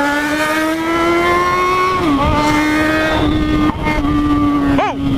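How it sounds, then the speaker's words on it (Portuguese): A Yamaha XJ6 motorcycle accelerates hard up close, its engine note climbing steadily before dipping with gear shifts and rising again, with a sharp exhaust pop near the end. "E o escape estralando,"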